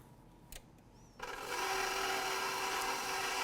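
A KitchenAid stand mixer starts up to blend flour, baking powder, sugar and salt for chive biscuits, a soft click and brief bump giving way to a steady, close whirring motor hum.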